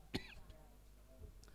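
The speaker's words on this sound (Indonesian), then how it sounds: "aku aja udah batuk-batuk gini" A single sharp cough near the start during a church service, followed by a couple of faint throat sounds against a quiet background.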